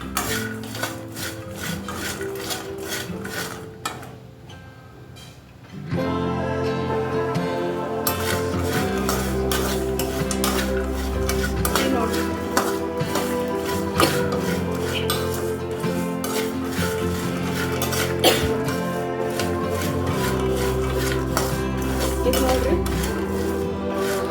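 Peanuts roasting dry without oil in a pan for a spiced masala peanut snack, scraping and rattling steadily with metallic stirring clinks, close and continuous after a brief quieter pause.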